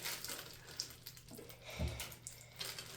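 Water streams out of a plastic bag pierced with a skewer, a soft continuous trickling and splashing that swells and eases over a few seconds, fairly quiet and close.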